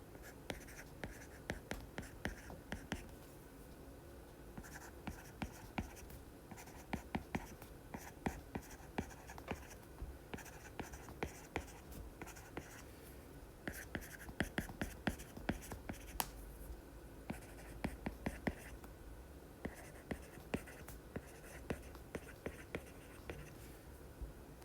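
A pencil or pen scratches out an English sentence by hand on paper, with soft continuous scraping broken by frequent small taps and pauses between strokes, close and quiet, with faint breathy sounds underneath.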